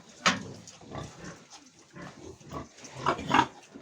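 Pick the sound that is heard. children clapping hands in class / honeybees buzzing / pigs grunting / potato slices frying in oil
pigs grunting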